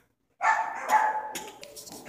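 A dog barks nearby, one long loud bark-like yelp that trails into a second, with rougher noise following it.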